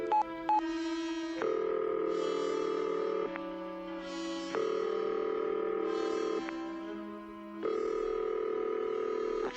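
Telephone number dialed in a radio drama: a rapid run of touch-tone beeps, then a steady sequence of long and short dialing tones over a continuous line hum, with no voices.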